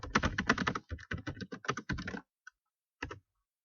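Brisk typing of a search query on a computer keyboard, a rapid close run of crisp key clicks in uneven bursts, then a single tap and a short final cluster after a pause.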